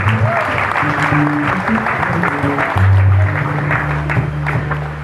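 A church congregation claps and cheers in praise of the Lord, with steady applause filling the room and a sustained musical drone and scattered voices underneath.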